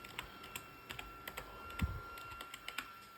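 Light, quick keystrokes on a computer keyboard typing a software name into a search bar, heard as soft, irregular clicks close by in an otherwise quiet room.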